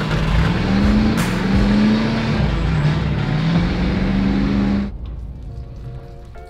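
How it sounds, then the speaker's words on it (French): Old naturally aspirated 2.5-litre four-cylinder diesel in a tow truck revs loudly and close for about five seconds, its pitch rising and falling, then cuts to a quieter idle. "C'est un 4 cylindres, 2 litres 5D Atmo."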